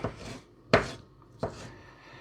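Knife chopping chicken and mango for a quick summer meal, three distinct sharp thuds on a board spaced unevenly apart, close and fairly loud.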